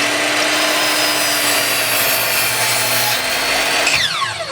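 A power saw cuts a bevel into wood for a trestle table with a loud, continuous close-up whine and rasp, then the blade winds down near the end.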